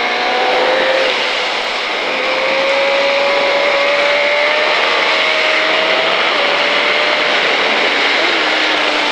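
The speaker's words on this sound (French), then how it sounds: "fais tourner la moto et on accélère" 2005 KTM Superduke motorcycle accelerating on a race track at Pau, a loud, sustained engine whine with a rising and gliding pitch as the throttle opens, close and continuous.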